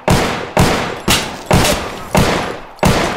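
Pistol shots from Punji, a Vietnam War VR game: six loud, sharp reports fired at a steady rhythm about half a second apart, each with a short decaying tail.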